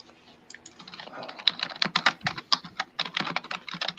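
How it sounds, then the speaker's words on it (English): Rapid, dense clatter of fast typing on a computer keyboard, close and continuous with irregular bursts of keystrokes and no voices. "You know that Sean typing away. I don't know how he typed that fast."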